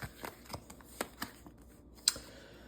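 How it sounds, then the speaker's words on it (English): Tarot cards being shuffled for a Celtic Cross reading: a series of soft, crisp riffling clicks and taps at an uneven pace, with one sharper snap near the end, close and fairly quiet. "We're gonna do one more shuffle."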